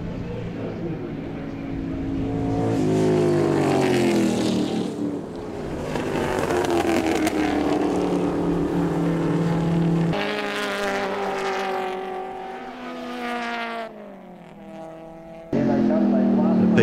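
Racing engines of a Mazda RX-8 and a Nissan 350 at a WA Sporting Car Club circuit race, loud and sustained with pitch sweeping up and down as the cars pass, heard under continuous commentary.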